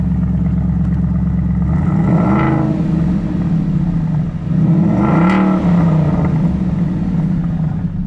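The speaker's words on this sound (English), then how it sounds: "I'm not even revving it that high" A 2013 Ford Mustang Boss 302 V8 revs twice from a loud, close idle, each blip swelling and falling back to a steady rumble with no talking.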